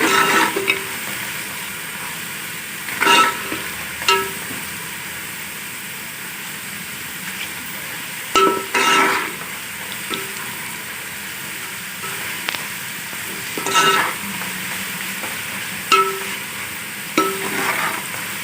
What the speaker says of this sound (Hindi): मैं इसमें ये सारा लहसुन अदरक मिक्स करूँगी, मसाला भूनूंगी थोड़ी देर।